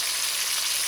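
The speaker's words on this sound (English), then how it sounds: "Sizzling away." Chicken pieces sizzle steadily in hot oil in a British Indian restaurant-style chilli fry, a dense, even crackle with no talk over it.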